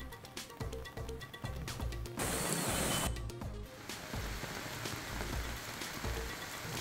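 Heavy monsoon rain falling over Pune and its suburbs, a dense steady hiss of downpour on surfaces that runs continuously and grows louder for a stretch in the middle, with no voices.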